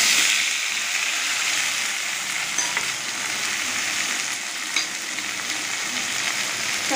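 Onion and tomato sizzle and fry steadily in hot oil in a pan while making a viral fish curry, a continuous close crackling hiss with faint stirring touches and no talk.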